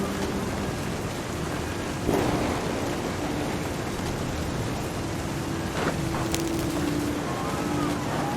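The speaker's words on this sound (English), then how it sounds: "Thunder sounded much too close and full of angry power." Storm in the video game What Remains of Edith Finch, with steady heavy rain hissing throughout and loud, close thunder cracks breaking through twice over the downpour.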